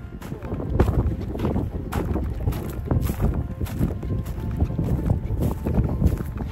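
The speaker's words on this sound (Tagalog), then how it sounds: "Crispy yung hangin ng Inday" Wind buffets the microphone in steady gusts at sea from a fishing boat, with rumbling low noise and occasional louder bursts throughout.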